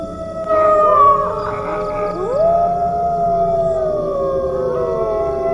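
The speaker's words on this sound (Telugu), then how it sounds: "తనకి ఎక్కడో నక్కలు అరుస్తున్నట్టు" Several jackals howl together in a horror-story sound effect, long wavering cries that rise and slide in pitch and overlap, loud and eerie over a low background drone.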